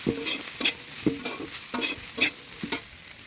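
Long beans stir in a pan with oil, turmeric, chili, chopped tomato and salt, with rhythmic spoon scrapes about every half second over a soft background sizzle, close and clear, with no voice.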